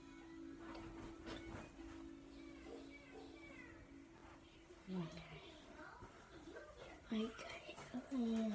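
A small cat giving a few short, soft meows near the end, close by, amid faint household noise and a steady low hum, with a person speaking quietly.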